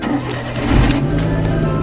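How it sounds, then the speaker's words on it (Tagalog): A troubled car engine cranks and catches after a simple repair, then settles into a steady running rumble, loud and close. "Sumandar na yung ating makina."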